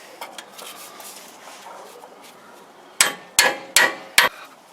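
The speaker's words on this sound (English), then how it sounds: "We're going to separate the ball joint. I'm going to use my you know, fork here." A fork tool is hammered to separate a ball joint on a Toyota 4Runner: four sharp metallic strikes land in quick succession near the end, after faint clinks and workshop rustle.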